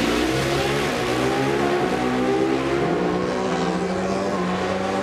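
Pro Stock drag racing motorcycles roar down the strip at the Route 66 Nationals in Illinois, a loud, sustained, rising engine howl as they accelerate at full throttle.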